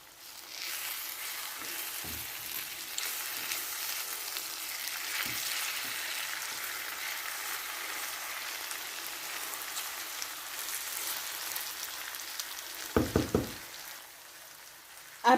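Red tilapia fish stew cooking in a pot over medium heat gives off a steady, even sizzling bubble, with a few brief knocks near the end.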